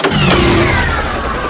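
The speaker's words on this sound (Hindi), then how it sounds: "ये ऑटो स्टार्ट है।" A small auto rickshaw engine turning over and catching, a steady mid-pitched motor drone with a rising whine that holds close and fairly loud for a brief moment, with no talking.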